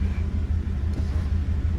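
A $300 Chevrolet Silverado pickup with transmission trouble rumbles steadily from inside the cab, its low engine drone pulsing evenly as the automatic shifts gear during a slow drive.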